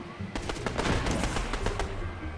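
Gunfire from a gun in the video game Fortnite, a rapid stream of close, loud shots cracking in quick succession amid continuous in-game noise.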